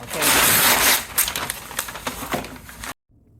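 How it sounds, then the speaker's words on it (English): Paper being torn off a roll while a gift basket is assembled: a loud broadband rip and crinkle for about a second, then softer crackling handling for two more seconds, stopping abruptly into near silence. "here I am tearing off a certain length of this paper"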